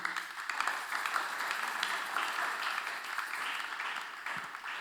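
Church congregation applauding to acclaim Jesus during a sermon, a steady wash of clapping sustained throughout at moderate level with no talk over it.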